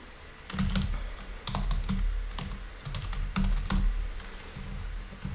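Rapid, close clicking of a computer keyboard as code is typed, irregular bursts of keystrokes in a quiet room with no voices.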